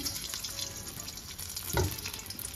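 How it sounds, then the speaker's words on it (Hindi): Potatoes fry in hot oil in a home kitchen, a steady close crackling sizzle running throughout, with one brief louder clatter near the end and no voices. "उसमें डालूंगी पहले मैं ये आलू, इनको थोड़ा सा फ्राई करूंगी"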